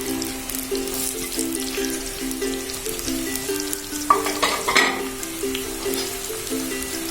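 Sliced onion frying in hot coconut oil, a continuous close sizzle with a steady tonal hum underneath and a louder burst of crackling and stirring partway through.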